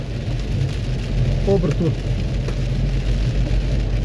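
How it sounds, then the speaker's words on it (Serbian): Heavy rain pours onto a car driving through central Belgrade streets in a storm, wipers on high, a steady dense hiss of water running throughout with a brief spoken word over it. "Vidite sami, veliki pljusak."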